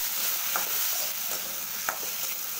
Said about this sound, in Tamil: வதங்கட்டும் அஞ்சு நிமிஷம்.